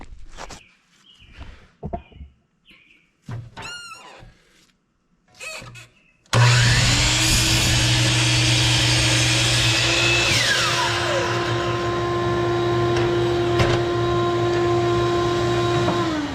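A power saw cuts a wooden post to length, the blade held down to the end of the cut: a sudden loud, steady whine and roar starts after several seconds of quieter handling knocks and continues unbroken to the end.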